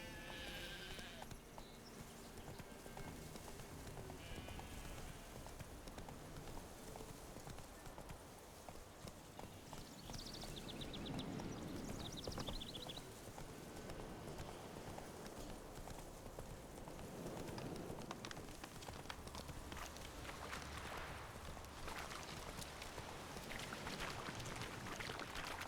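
Roach, a horse in The Witcher 3, galloping with steady hoofbeats beneath constant game ambience and music, fairly loud and continuous, with brief neighs and faint speech.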